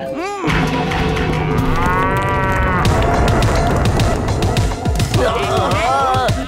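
Loud, drawn-out cartoon cow moos from the animated series Motu Patlu repeat over a busy, noisy background, with a bright bellowing call near the start and another toward the end.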